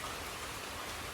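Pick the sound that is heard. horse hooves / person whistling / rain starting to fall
rain starting to fall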